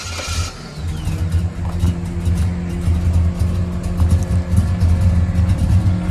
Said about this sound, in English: just hit the key on the El Camino